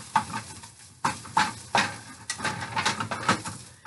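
A crab cake warming in a hot pan, with soft sizzling broken by sharp clanks and scrapes of utensil against pan at uneven intervals, close and fairly quiet.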